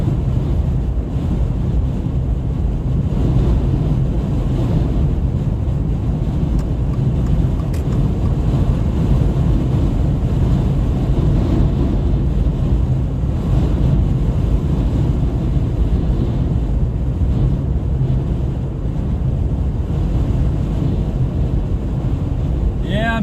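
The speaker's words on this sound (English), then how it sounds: "It is windy, windy, windy." Strong wind roars during a tornado storm near Roswell, New Mexico, a loud, continuous buffeting rumble close to the microphone that holds steady for the whole stretch.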